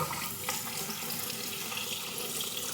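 Kitchen tap running water into a drinking glass, a steady close hiss and splash of flowing water with no talk.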